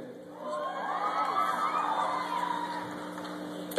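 A concert crowd at the Spirit West Coast 2012 festival cheers and shouts, giving a moderate, sustained wash of whoops and yells at middle distance that swells after a quiet start and holds to the end.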